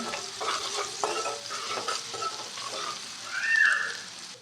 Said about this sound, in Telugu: ఆనియన్స్ అయితే ఫ్రై అయ్యాయండి.